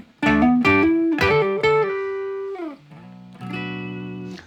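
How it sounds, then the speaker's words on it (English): Les Paul Custom electric guitar with its neck pickup split to single coil, giving a bright, sparkly tone as a few plucked notes and chords ring out cleanly, with a sustained note fading before a final strummed chord. "we can now make it a single coil and dim that, which makes it nice and sparkly."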